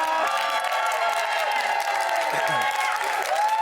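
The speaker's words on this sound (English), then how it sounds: "keep that applause going for Savannah!" Studio audience applause for a contestant on Big Brother UK's BOTS spin-off, a steady sustained clapping that holds level throughout, with a faint voice or whoop drifting through the middle.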